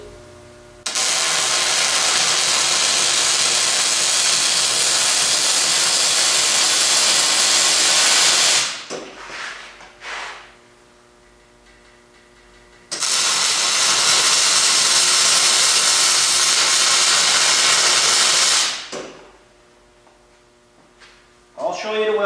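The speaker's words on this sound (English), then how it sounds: "I'm going to tack it on this side." A streetlight generator frame is tack welded: two long, loud, steady hissing arc bursts, each lasting several seconds, separated by a quieter stretch with faint clanks and hum.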